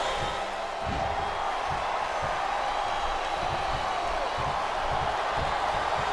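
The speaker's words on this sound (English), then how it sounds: "It sounds like this capacity crowd has something on their minds." A constant wash of cheering from a packed crowd in a WWE video game arena, with scattered low thuds underneath and no voices standing out.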